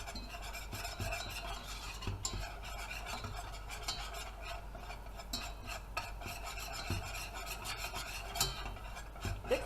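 A mixture stirred in a pot, steady rasping scrapes of a utensil against the pot bottom repeating throughout, close and moderately quiet, with faint sizzling underneath and no talking.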